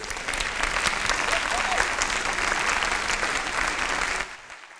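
Applause from a large conference audience of over 1000, a dense steady clatter of many hands clapping at once that cuts off abruptly near the end.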